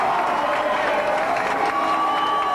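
Rugby league crowd at Keighley cheering and applauding as the teams run out, a dense, continuous roar of voices and clapping filling the ground at steady loudness.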